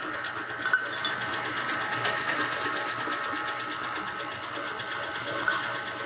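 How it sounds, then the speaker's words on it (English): A stand mixer creams unsalted room-temperature butter with sugar, producing a steady whirring motor drone with faint rhythmic mechanical ticking, constant and moderately close throughout. "In the bowl of a mixer, cream 10 tablespoons of unsalted room temperature butter, and you can start that creaming, and 1 cup of sugar."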